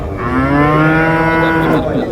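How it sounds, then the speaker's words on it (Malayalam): A dairy cow gives one loud, close moo, a steady low drawn-out bellow lasting about two seconds, with no talking over it. "നല്ല പശുവാണ്."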